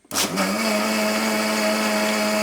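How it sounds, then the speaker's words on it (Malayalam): A mixer grinder whirs steadily as it blends thick curd in its jar, starting abruptly with a short burst and then holding a loud, even motor hum alone for the rest of the moment. "മിക്സർ ജാറിലിട്ട് 2 കറക്ക് കറക്കി കൊടുക്കാം."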